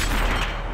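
Object 140 tank firing its cannon in World of Tanks: a single loud, close blast at the very start with a broadband boom and rumble decaying over the short clip, without talk.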